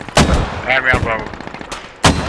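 Sharp gunshots from the Squad video game crack loudly in short bursts, a couple of close heavy reports standing out from scattered smaller shots.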